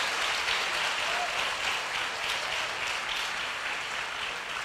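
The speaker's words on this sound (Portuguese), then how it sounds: "eu gostaria de pedir à igreja que aplaudisse a Deus pela vida dela" A church congregation applauds in a steady, dense wash of clapping that stays even and sustained from start to finish, filling the room without pause.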